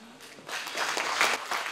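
Audience applause at a campaign meeting for a mayoral candidate, a steady crowd clapping that swells after a moment and holds at a moderate, even level.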